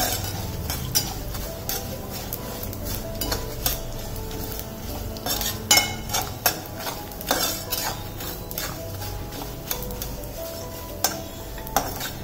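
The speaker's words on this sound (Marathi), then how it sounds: "आता आपण सगळं व्यवस्थित परतून घेऊया।" Whole spices and two tablespoons of poppy seeds are stirred around a pan for a country-style chicken gravy, with repeated spoon and metal scrapes and clinks over a low sizzle throughout.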